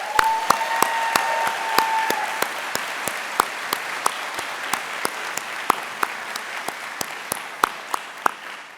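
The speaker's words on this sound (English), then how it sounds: "Let's give her a round of applause" At the UC Berkeley Haas executive MBA 2023 commencement, the audience applauds the commencement speaker with a steady bed of crowd clapping, punctuated throughout by sharp, louder individual claps from nearby hands.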